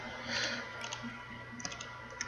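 Rapid clicks from a computer mouse shift-clicking items in Minecraft, several sharp, close taps scattered over a steady background hum with no talking.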